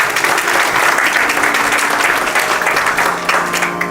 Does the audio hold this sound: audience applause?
yes